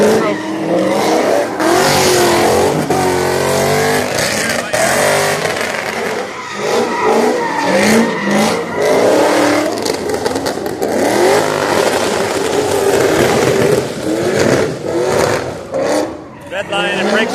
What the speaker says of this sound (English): Red line and brake stand with the tires hotter.